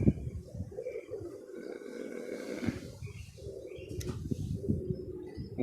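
Roll down pigeons cooing in a loft, low throaty coos repeating under steady background noise, with a voice faintly present.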